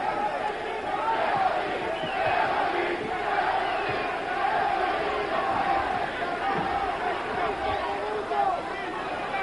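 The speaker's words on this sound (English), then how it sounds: "Crowd chanting for Gregory again." A boxing crowd in the final round of a world light heavyweight title fight chants for Eddie Gregory, a loud, sustained roar of massed voices with a rhythmic chanting pulse that fills the whole stretch.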